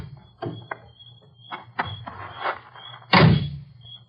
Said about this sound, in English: Let's try the door.